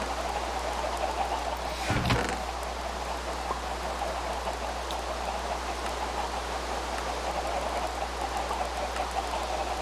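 Steady rain hisses over a low constant hum in the Minecraft Skyblock video game, an even wash of falling drops with one brief louder swell near the start.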